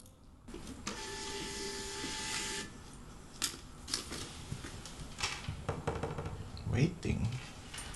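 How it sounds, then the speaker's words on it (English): Label printer in a clothing brand studio, whirring and feeding labels with a steady mechanical hum, then intermittent clicks and short bursts, close and fairly quiet. "I need to update this label printer."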